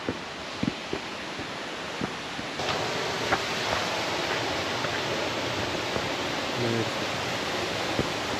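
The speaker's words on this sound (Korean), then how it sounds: "이쪽으로 보이는 폭포가 용주폭포입니다" Yongju waterfall on Gibaeksan mountain pours in a steady, full rush of water heard up close, with a few soft wind bumps and faint knocks on top.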